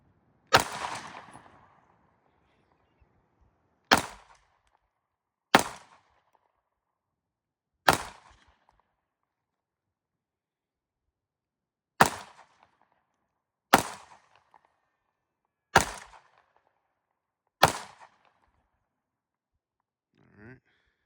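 A Sig Sauer P320 Flux Legion pistol fires eight sharp, loud shots outdoors, spaced irregularly a couple of seconds apart, each with a short fading echo.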